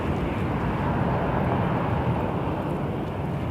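A private Cessna Citation jet at Toronto Pearson Airport, a broad steady roar of jet engines filling the air, continuous and fairly loud with no voices.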